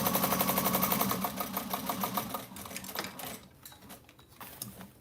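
A sewing machine bastes a pocket in place, its needle chattering in a fast, even run close by, then slowing and stopping, followed by softer handling noises.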